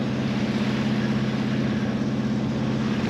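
A sailboat motors along on its engine in windless conditions, giving a steady, loud low drone with a continuous rumble and no pauses.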